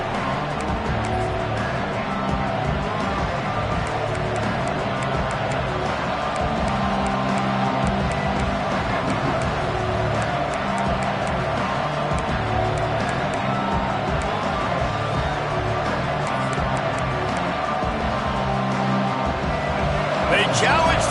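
Crowd cheering fills a stadium at an LSU football game, a steady, loud roar that holds throughout, with a commentator talking over it.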